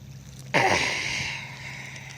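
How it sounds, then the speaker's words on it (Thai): Rain beginning to fall at night beside a river during a night fishing trip for giant freshwater prawns, a sudden broad hiss that sets in and keeps going as a steady, fairly close wash of drops. "ตอนนี้ฝนก็เริ่มลงเม็ด"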